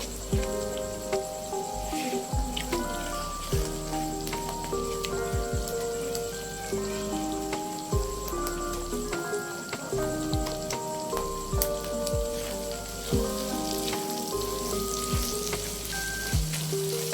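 Egg and minced meat sizzle steadily in a hot pan, a continuous close frying crackle with occasional scrapes and stirring knocks throughout.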